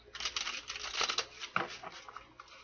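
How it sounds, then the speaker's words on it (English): Tarot cards are shuffled by hand: a quiet, close run of soft riffling patters and light slaps that swells and fades over a couple of seconds, with no one speaking. "Let's do one more shuffle and we'll take from the top."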